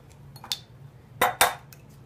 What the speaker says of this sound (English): So we're going to take 2 eggs. We're going to crack those in there.